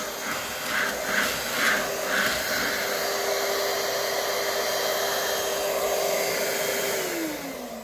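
A Bissell Featherweight bagless stick vacuum, model 3106-K, runs with a steady whining motor hiss that stays even for several seconds and then drops in pitch near the end, heard alone and fairly close.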